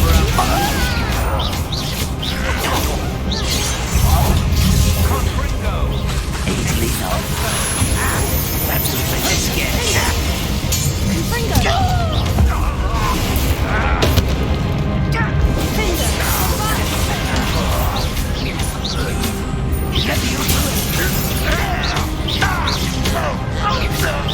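Confringo, a fire-blast spell in Hogwarts Legacy, erupts in a busy battle scene: repeated crashing bursts and impacts layered over a dense wash of game music and effects, with voices talking throughout.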